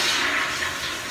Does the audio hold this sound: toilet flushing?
yes